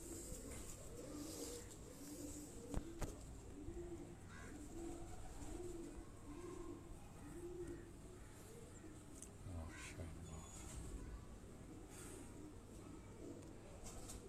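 Pigeons coo close by in repeated soft, rhythmic low calls, with faint background murmurs and occasional small clicks and rustles.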